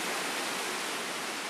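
A waterfall roaring in a tight rocky space, heard close as a continuous, even broadband rush with no breaks or voices.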